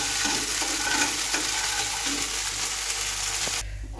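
Green pea and ginger paste with chili sautéing in hot oil in a wok, a dense continuous sizzle with stirring scrapes throughout, stopping abruptly just before the end.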